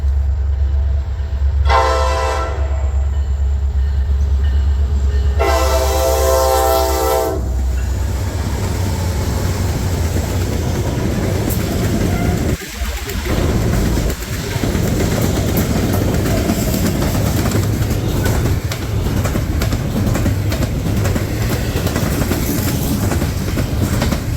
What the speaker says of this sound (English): it was so cool seeing all these old locomotives with the modern day NS locomotives.